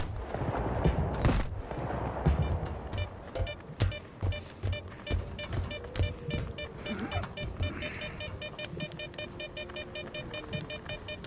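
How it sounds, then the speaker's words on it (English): Video game gunfire in bursts, with sharp shots cracking irregularly, some close and loud and others farther off. A faint electronic tone runs underneath. "That's gunfire."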